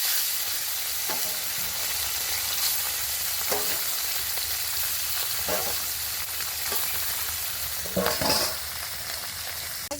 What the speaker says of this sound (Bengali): আর এক খোলা মাছ বাকি আছে সেটা ভেজে নেব